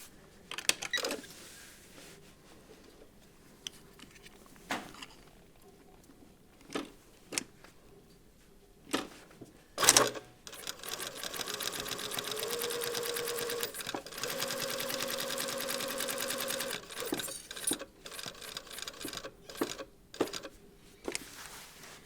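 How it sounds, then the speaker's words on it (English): A sewing machine stitches a rectangle for a zipper pocket in bursts, with short runs broken by clicks and pauses as the fabric is pivoted, then a longer steady run of stitching; close and clear, no talk. "I'm going to start sewing on this line in a rectangle shape all the way along this marking."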